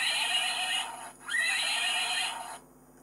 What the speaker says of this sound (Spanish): El primero que habíamos visto es el sonido del caballo.